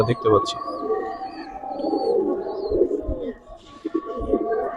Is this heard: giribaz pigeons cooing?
yes